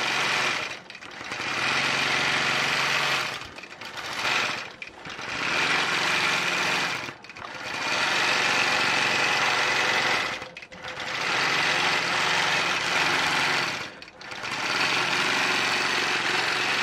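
Longarm quilting machine stitching wavy fabric to quilt out fullness: a loud, fast, steady mechanical chatter in several long bursts separated by short pauses, no talk.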